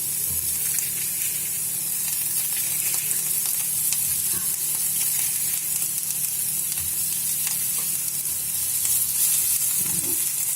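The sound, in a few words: onion slices frying in oil in a pan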